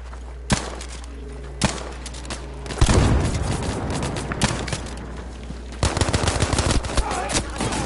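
Gunfire in the Battlefield V video game: bursts of machine-gun fire and single sharp shots crack over a low steady hum, with heavy rattling volleys from the middle onward and faint game sounds between.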